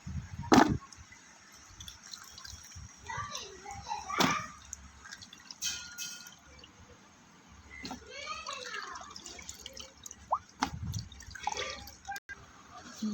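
Small fresh fish being rinsed and rubbed clean in water, with intermittent splashes and drips close by under steady talking.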